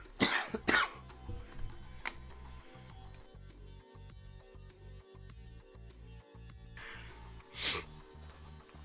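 A man coughs in quiet bursts, two sharp coughs near the start, another a little later and a final one near the end, close to the microphone over a low background hum.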